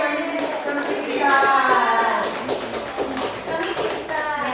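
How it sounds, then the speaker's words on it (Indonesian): Schoolchildren in a primary school classroom clap their hands together in a rhythmic group pattern, a dense, steady burst of many small hands close by, with young voices chanting along. "Berikan dulu tepuk tangan."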